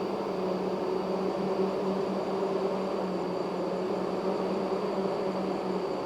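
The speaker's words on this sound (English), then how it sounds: "That's the sound of a lot of hydraulic motors working in unison." Many hydraulic motors on self-propelled modular transporters running together, producing a steady, even mechanical hum and whine with a faint high tone throughout, no voices.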